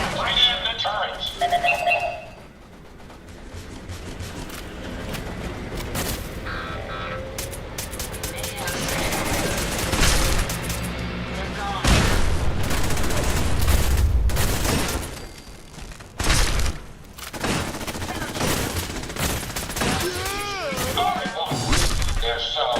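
Turrets firing in the Fallout 4 video game, rapid bursts of shots mixed with heavy impacts and booms in a chaotic fight, loud, with someone talking over parts of it.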